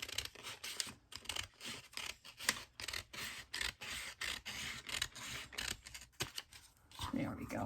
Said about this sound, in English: Just grab my scissors here.